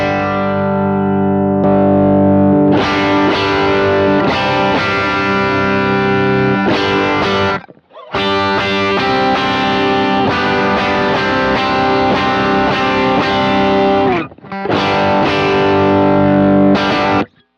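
An electric guitar with single-coil pickups plays through an overdrive with its EQ knobs set at noon. It gives loud, sustained, gritty chords and riffs in a few phrases with short gaps, and no talking.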